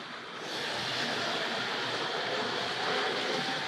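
A Tri-ang model railway train running along its track, a continuous close rumbling whir that rises in the first half second and then stays steady, with no talking.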